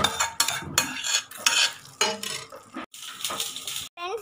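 A spoon works through a pot of jackfruit seed curry with dried prawns and raw mango, making repeated close scraping strokes with clinks against the metal and short pauses between strokes.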